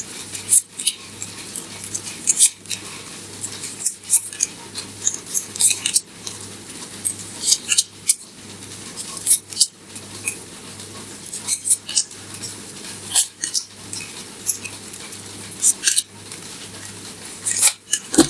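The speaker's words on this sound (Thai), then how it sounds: "เป็นตัวแทนจับไพ่ให้ชาวเมษสิบใบค่ะ" Ten tarot cards being drawn from a deck, with repeated crisp snaps and shuffling flicks in an irregular rhythm over a steady low hum, close and alone with no talking.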